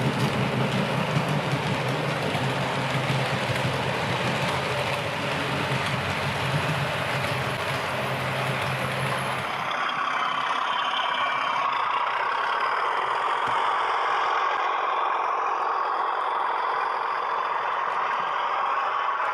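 A DCC sound-fitted model Class 52 Western diesel hydraulic locomotive hauls an express passenger train across the Ashton Junction layout: a continuous, loud engine drone and rumble whose deep low end drops away about halfway through, leaving a lighter, hissing rush.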